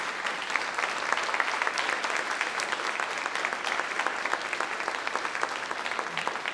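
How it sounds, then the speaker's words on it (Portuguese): A church congregation claps together after a call to stand and honour God, a dense, even wash of applause that carries on steadily from start to finish with no pauses. "desse uma salva de palmas para aquele que merece toda a honra"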